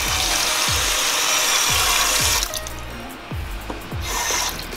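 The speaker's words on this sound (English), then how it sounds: "So just enough water to cover the top of it." Water runs from a tap into a pot of braising meat for tacos, a steady bright splashing stream that cuts off partway through, with scattered low clunks and knocks.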